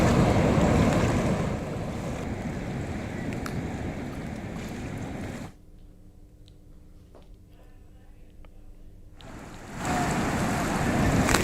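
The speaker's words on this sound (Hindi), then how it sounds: "नाव के सहारे कई सालों से ये लोग नदी पार करते हुए नजर आते हैं।" Boat crossing a river, heard as loud wind-buffeted water and motion noise that drops to quiet for a few seconds in the middle and then returns, with faint voices.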